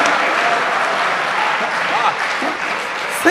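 Audience at a Hindi comedy show applauding, dense steady clapping from a large crowd sustained throughout, loud and close, with faint voices mixed into the clapping.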